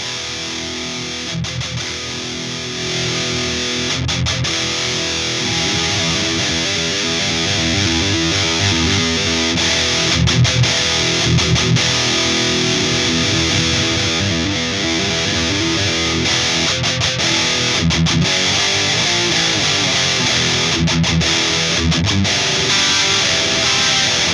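An electric guitar plays through the loose drive channel of a Fender MH-500 Metalhead distortion pedal, giving loud, saturated chugging riffs and chords with sharp palm-muted stops, steady throughout with no talking.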